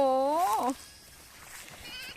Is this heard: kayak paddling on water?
no